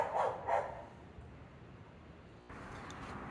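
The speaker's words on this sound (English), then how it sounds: "Neighbor dogs has a lot to say." Neighbor dogs bark twice in quick succession at a distance outdoors, followed by quiet background ambience.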